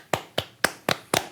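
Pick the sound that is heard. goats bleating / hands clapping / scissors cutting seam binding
hands clapping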